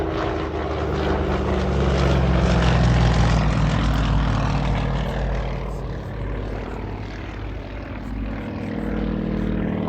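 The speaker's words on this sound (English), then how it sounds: "just absolutely throwing the Yak-Fifty-Two around" A Yak-52 radial-engine aircraft flies aerobatics at an air display, its propeller drone loud and continuous, swelling and fading as it passes, with no voices.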